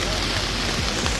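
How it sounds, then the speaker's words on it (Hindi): Heavy rain pours steadily at a picnic outdoors, a dense, continuous hiss filling the whole moment with no break. "बारिश काफ़ी तेज़ थी, लेकिन हमने भी हार नहीं माना और आखिर तक टिके रहे।"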